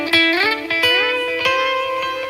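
Empress Zoia pedal running the Astral Torpor patch, looped oscillator tones reacting to playing, with sliding, wavering pitched notes and rhythmic plucked attacks, loud and close with no talk.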